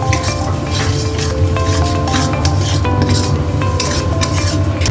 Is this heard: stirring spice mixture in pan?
yes